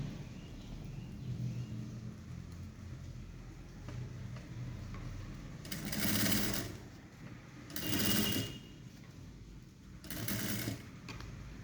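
A sewing machine stitches a blouse in three short, loud bursts of fast mechanical whirring, separated by quieter pauses with light handling noise.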